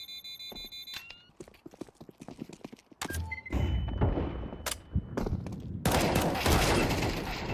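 Gunfire crackles in Counter-Strike 2, starting with scattered clicks and thumps, then bursts of rapid shots and loud sustained firing near the end.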